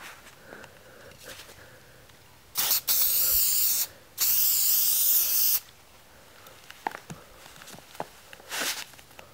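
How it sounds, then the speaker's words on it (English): Spray glue or adhesive hisses in two loud, close bursts as a line is sprayed down a cardboard shell casing for a firework canister, with quiet handling noises before and after. "I just spray a nice line right down the middle"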